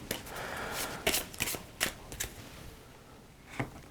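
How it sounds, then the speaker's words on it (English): A deck of playing cards being shuffled during a tabletop board game, heard as a series of sharp riffling bursts at irregular intervals, close and fairly quiet, with no talking. "And then we will just shuffle the deck of cards."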